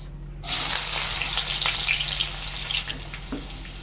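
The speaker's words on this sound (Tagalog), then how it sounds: "Igisa na natin ang bawang at sibuyas." Garlic and onion sauté in hot cooking oil for homemade bagoong, a sudden loud sizzle bursting up as they hit the pan, then settling into a steady crackling fry close by.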